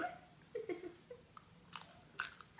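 Someone bites and chews a whole habanero pepper, producing a few quiet, close crunching and wet mastication sounds in short bursts.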